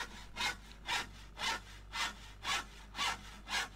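A handsaw cutting wood in Landwirtschafts-Simulator 17, a modded hand saw felling a tree, with seven evenly spaced rasping strokes in a steady rhythm over a low constant hum.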